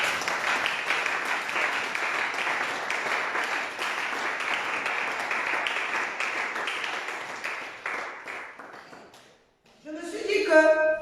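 A church congregation applauding during a service, a dense steady clatter of many hands that stays loud before fading out and cutting into a brief different sound at the end.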